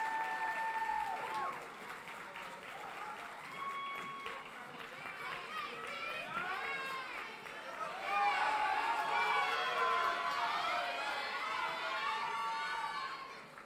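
A crowd at a Black college queens pageant claps and cheers for the contestants, with excited shouts and voices rising over the applause and swelling louder in the second half.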